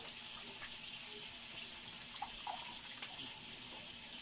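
Water drains from grated coconut as the coconut milk is separated for a traditional herbal medicine, giving a faint, continuous trickle and splash without pauses.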